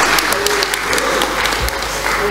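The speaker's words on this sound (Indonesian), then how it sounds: "Tepuk tangan." Applause from the guests at an Indonesian gathering where rhyming pantun verses are being recited, a dense steady clatter of many hands filling the whole stretch at a loud, even level.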